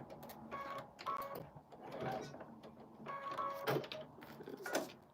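A sewing machine runs in short bursts, its needle mechanism giving a close, rhythmic mechanical whirring and clatter that starts and stops, with faint talk in the background.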